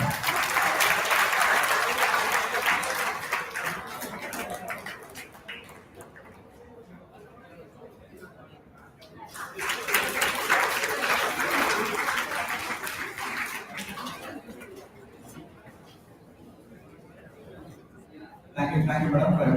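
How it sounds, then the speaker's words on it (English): A hall audience at a corporate launch event claps in two loud sustained bursts separated by a quieter stretch, with chatter between them and another burst starting at the very end. "Please give a big round of applause."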